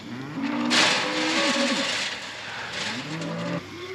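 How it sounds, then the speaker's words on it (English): Cows and bulls on a farm moo in long, close calls: one drawn-out bellow, then a second lowing call after a short pause, over a faint outdoor background. "these cows are being so restless"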